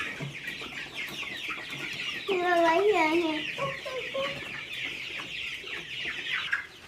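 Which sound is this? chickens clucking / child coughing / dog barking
chickens clucking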